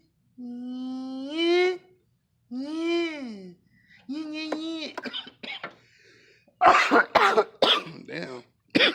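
A man working on a 5.3 LS swap engine in a garage lets out a few drawn-out, groaning vocal sounds, then a burst of harsh, close coughs.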